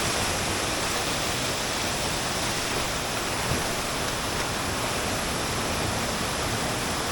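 A small waterfall at Chet Sao Noi National Park pours steadily in a broad, unbroken rush of water, loud and close, with no voices standing out above the constant roar.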